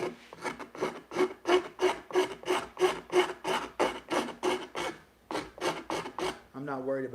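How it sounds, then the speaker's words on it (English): A rasp files wood in a steady back-and-forth rhythm of about a dozen close scraping strokes, with a short pause, then a few more strokes before a brief voice. "rasp it a little bit."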